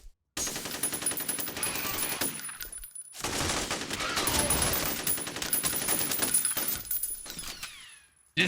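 Rapid automatic gunfire from a weapon in the shooter F.E.A.R., two long sustained bursts separated by a short pause, loud and close with metallic rattle.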